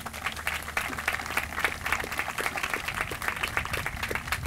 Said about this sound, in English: let's give the community a round of applause